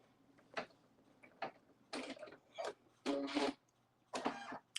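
A home embroidery machine stitches a design onto a canvas tote bag in short mechanical bursts of whirring, stopping and starting in an irregular rhythm, fairly close and with no talk.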